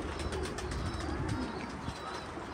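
Pigeons on a rooftop, soft low cooing amid a dense, noisy outdoor background, fairly faint and continuous.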